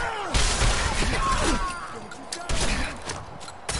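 Gunfire from a weapon in Fallout 4 cracks out in a rapid burst of sharp shots over a busy game soundscape, with talking mixed in.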